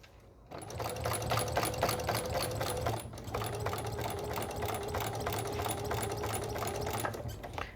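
Sewing machine stitching invisible appliqué on a pillow, a steady rapid mechanical whir with a brief pause and restart partway through, close and continuous.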